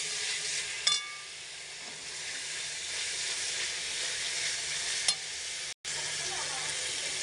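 Spices sizzle steadily in hot oil in a pan as salt and turmeric go in, a continuous loud hiss with a couple of sharp clinks and one brief dropout.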